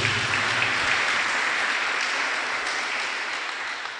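A church congregation applauds in a steady, dense wash of clapping that holds evenly throughout and tapers slightly near the end, with no talking.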